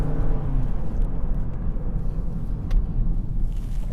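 A Toyota Corolla 180H hybrid heard from the cabin, its CVT gearbox and engine producing a steady low drone and rumble that holds evenly from start to finish, with no talking.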